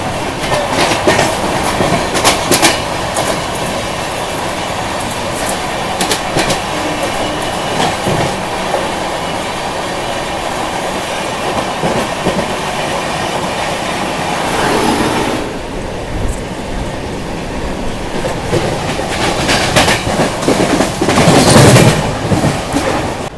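The Mumbai Rajdhani Express running past the halted Mahanagari Express near Kasara Ghat, a loud, continuous rumble with rhythmic clickety-clack of wheels over rail joints and a brief squeal of wheels near the end.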